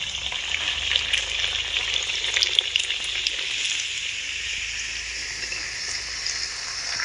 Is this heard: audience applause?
no